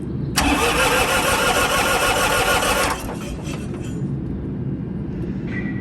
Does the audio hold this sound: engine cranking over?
yes